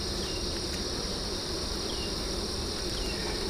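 Honey bees buzzing inside an opened hive super on old comb, a steady dense hum with faint higher whines, constant throughout and close by.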